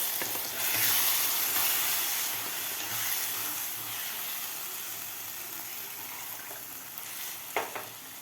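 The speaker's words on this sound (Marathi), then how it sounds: "आता व्यवस्थित आपल्याला मिक्स करायचं आहे" Fenugreek curry with ground peanut paste being stirred in a pan, a steady close sizzle and hiss with soft scraping of the spoon, no talking.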